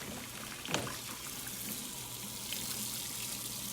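A refrigerator shelf is rinsed under a kitchen sink tap, water running in a steady quiet hiss with a brief splash and clunk early on, heard close but faint.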